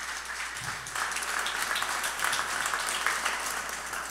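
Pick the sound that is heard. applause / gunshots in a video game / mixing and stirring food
applause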